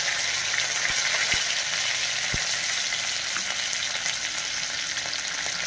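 Curry leaves sizzle in hot oil alongside ginger and green chilies for a bottle gourd vegetable dish, a steady close frying hiss broken by a few sharp pops.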